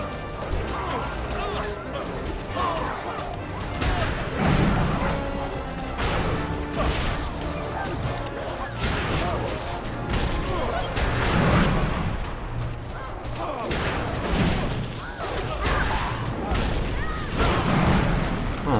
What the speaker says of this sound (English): Gotta use the cannons to slay